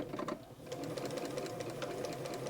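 A Bernina 930 Record electronic sewing machine running a long basting stitch, its motor whirring steadily with a fast, even mechanical chatter, close and continuous throughout with no talking.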